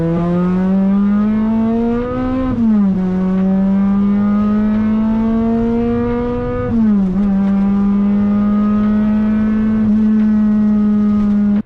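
A supercharged Toyota Celica running nitrous drives down the road with a loud, steady engine drone, its pitch rising gradually through the gears and dipping briefly at two gear changes.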